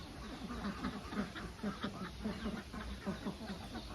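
A flock of Khaki Campbell laying ducks on a Thai farm, repeated quacking and clucking calls in an irregular rhythm, fairly faint and mixed with steady background noise, no voices.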